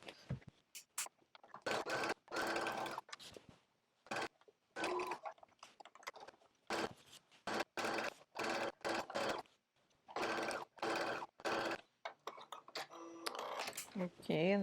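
A sewing machine stitches a jacket sleeve for a coat in repeated short, loud bursts separated by brief pauses, with a voice speaking near the end.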